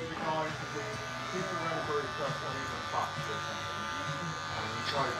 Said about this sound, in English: I'm now going to use my Andis, which is 3 mil, which is about a grade one.